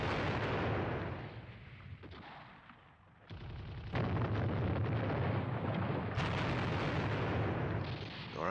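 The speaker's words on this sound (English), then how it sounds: "his artillery can actually clear some of the obstacles. Oh, wow, they're landing right in my trenches there" Artillery shells from Squad Battles: Red Victory at Ponyri slam into trenches, a loud, continuous roar of blasts that dips briefly midway, then resumes with sharp fresh impacts and heavy rumbling, no voices.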